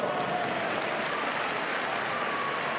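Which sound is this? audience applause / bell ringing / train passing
audience applause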